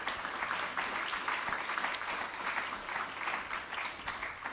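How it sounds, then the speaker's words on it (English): A hall audience at the NUI Galway Threesis Final 2014 gives a steady round of applause, a continuous mass of many hands clapping at even, moderate loudness with no break. "a round of applause for the people who actually got you through the HEATs"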